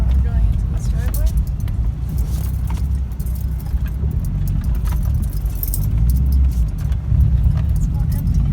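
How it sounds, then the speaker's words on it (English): A Subaru WRX rolls into a driveway, its engine a steady low rumble with faint rattling close by, while a person talks over it. "My car going into this driveway."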